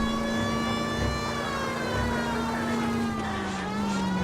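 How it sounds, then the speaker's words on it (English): A police car siren wails steadily in the L.A. Noire video game, loud and continuous with a slowly bending pitch over the faint hum of a driving car engine, with no talk. "Turn on the siren."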